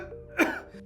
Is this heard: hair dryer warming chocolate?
no